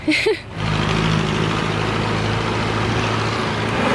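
A vehicle engine idles close by, a steady low rumble with a constant hum that continues after a brief noise at the start.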